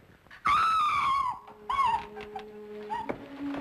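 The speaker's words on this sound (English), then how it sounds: "She screamed, did you hear her?" In a radio drama, a woman lets out a loud, drawn-out scream, followed by a second shorter cry and some quiet background sounds. No one speaks.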